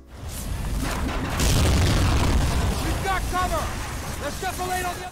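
A loud, booming explosion blows apart barbed wire in the Medal of Honor video game, swelling into a sustained roar for several seconds before fading into rumbling and scattered chirping game effects.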